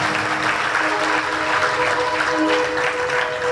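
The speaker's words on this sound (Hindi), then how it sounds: "जरा जोरदार ताली बजाइएगा" A large audience at a spiritual discourse claps loudly and continuously, a dense, sustained wash of applause with a faint musical tone ringing beneath.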